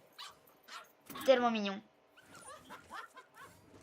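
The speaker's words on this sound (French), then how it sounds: "Il y a un petit chien qui sort, c'est son petit cadeau de Noël, ça." A small cartoon dog pops out in a Christmas-themed video game emote, giving a short burst of high, yappy barks and whimpers, followed by someone speaking softly.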